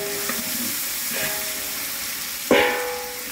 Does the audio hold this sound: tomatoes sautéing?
yes